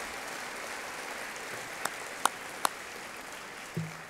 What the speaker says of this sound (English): Please give them a wonderful round of applause.